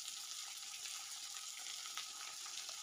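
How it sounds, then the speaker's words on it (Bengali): Capsicum pieces fry on a high flame with a soft, steady sizzle, quiet and fairly distant, broken by a few light scrapes and clicks as they are stirred. "ওভেনের ফ্লেমটা আমি হাই রেখে ক্যাপসিকামগুলোকে আমি নাড়াচাড়া করে একটু ভাজা ভাজা করে নিচ্ছি"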